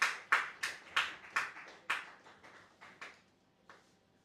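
A handful of separate claps ring out at an uneven pace at a conference, fading between each one, sparse rather than a full crowd's applause.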